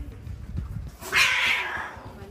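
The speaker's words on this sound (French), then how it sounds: "j'ai assisté à une bagarre de chats" Two cats fighting, with low growls and scuffling, then a loud, rising yowling caterwaul that swells and fades, heard fairly close.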